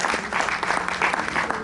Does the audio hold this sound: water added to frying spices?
no